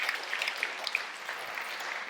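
A church congregation claps for the Lord, a steady, fairly distant spatter of hand claps running through the whole moment with no talk over it.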